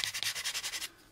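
Abrasive rubbed back and forth across the curved plastic secondary hull of an AMT U.S.S. Enterprise model kit, rolling to avoid flat spots: about eight quick, even, close scraping strokes, then the sanding stops and near silence follows.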